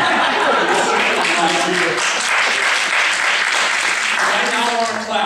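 Loud, continuous applause from a town hall audience in Albany, Oregon fills the room for several seconds, with voices mixed into the clapping.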